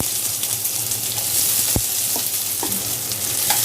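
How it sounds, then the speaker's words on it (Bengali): Chopped onion sizzles steadily in oil in a wok for a magur fish bhuna, with a few sharp spatula scrapes and clinks as it is stirred, close and without speech. "পেঁয়াজ কুচিগুলো ভালোভাবে নেড়ে চেড়ে একটু লাল করে নিব।"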